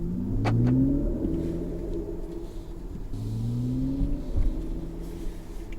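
A Mercedes EQS 450+ electric car in sport mode gives off a synthetic driving sound, a smooth hum that rises and falls in pitch over a steady rumble, continuous and fairly loud inside the cabin.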